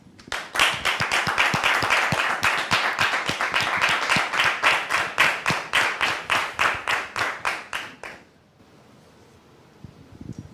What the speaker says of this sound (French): Merci de la recevoir, très cher public, sous vos applaudissements